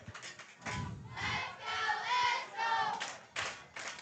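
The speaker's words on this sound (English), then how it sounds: "I can actually hear Cougar Nation cheering all the way over here" Cougar Nation fans at a high school football game cheer and roar in swelling bursts, heard from across the field, with a few thumps and claps between the surges.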